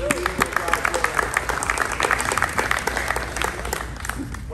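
A church congregation claps along in a steady, rapid stream of handclaps that fills the room, with voices speaking and calling out over the clapping.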